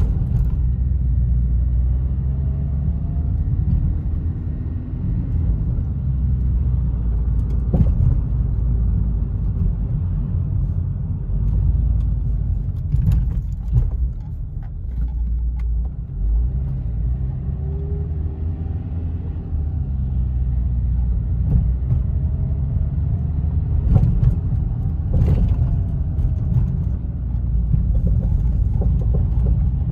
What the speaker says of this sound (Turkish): Sıra geldi test sürüşüne.